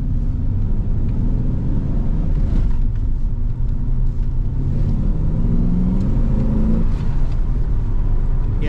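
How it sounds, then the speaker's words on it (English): A car passes on a road while an engine idles nearby in a long-abandoned vehicle, a steady low rumble that swells and fades without any talk. "let this car go by"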